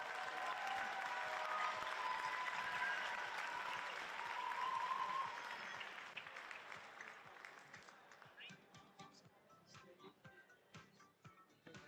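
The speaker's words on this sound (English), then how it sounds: "Let's see if we give these guys a round of applause." Audience applause at a high school scholarship night honoring scholarship recipients, a broad steady wash of clapping from a large crowd that tapers and thins into scattered claps over about twelve seconds.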